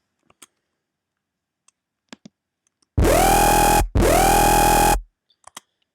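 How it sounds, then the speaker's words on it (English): A harsh, buzzy scream-style synth patch made in Native Instruments Massive plays two loud sustained notes of about a second each, with faint clicks around them and no talk. "The synth sounds like this."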